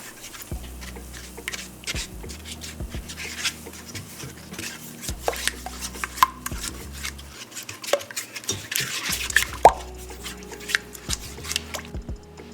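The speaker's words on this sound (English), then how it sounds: "But I'm just mixing all of this together nicely." A small Halloween spatula mixes sweet bread dough ingredients for pan de muerto in a bowl, giving irregular scraping, soft thuds and clinks against the bowl, close and busy, with brief pauses.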